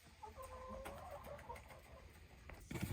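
Black leghorn chickens clucking softly in a barnyard, faint scattered calls over a noisy ambient background with a louder bump at the end; no speech.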